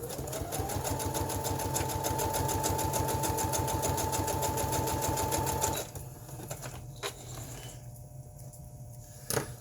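A sewing machine stitches on paper at its widest zigzag setting, running in a steady rapid mechanical rhythm for nearly six seconds, then stopping, followed by quieter handling clicks and a faint background hum.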